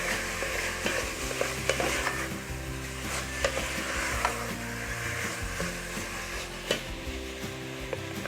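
Small pieces of pork browning in a hot pot, sizzling steadily while a utensil stirs and scrapes them, with irregular clacks over a constant frying hiss.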